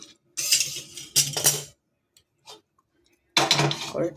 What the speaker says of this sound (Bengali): এবার বসাবো কড়াইটা